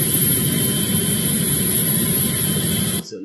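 Apache military helicopter heard as a steady, loud broadband engine and rotor roar with a heavy low rumble, continuous for about three seconds before cutting off abruptly.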